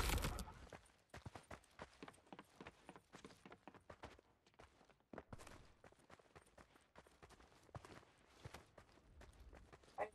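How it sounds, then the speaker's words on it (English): Creeping footsteps sound in the Fortnite video game on a body-cam custom map, a quiet run of soft, irregular scuffing steps with no talking. "I hear creeping footsteps, but I don't see anybody creeping."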